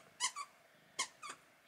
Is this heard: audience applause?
no